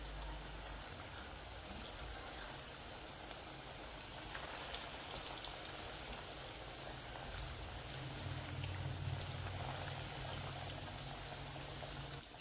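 Veg cutlets deep frying in hot oil over medium gas: a steady, dense crackling sizzle like rain, continuous and fairly loud throughout with no talking.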